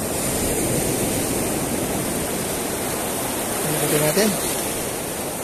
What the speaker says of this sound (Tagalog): medyo malakas pa rin talaga yung alon, eh